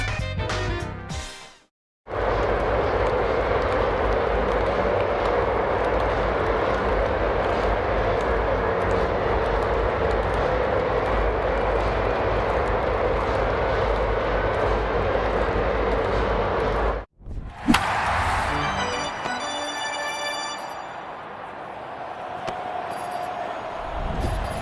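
Aircraft flyby over a baseball stadium, a loud, broad roaring rumble that holds for about fifteen seconds, then cuts off sharply as crowd noise and faint stadium sounds take over.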